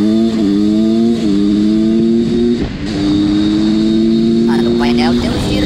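A Husqvarna SM360 2T two-stroke motorcycle with an aftermarket high exhaust idles and revs up close, its loud buzzing engine tone stepping up and down in pitch, with a brief dip partway through.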